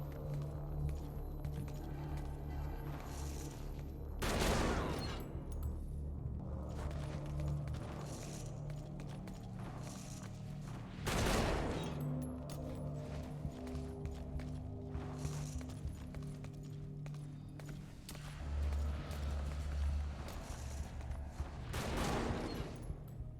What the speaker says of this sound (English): What are you shooting them for?